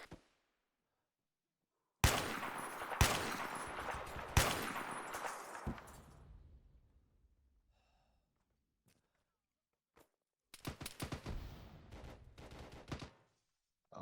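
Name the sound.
gunfire in the video game Arma 3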